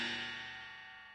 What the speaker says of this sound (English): Can you hear how the cymbals were still ringing a little bit?